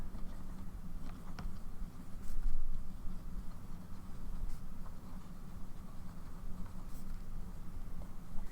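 A Tombow pen writing on paper gives a soft, continuous scratching and gliding sound, faint and close, with slight strokes and taps throughout and no talking.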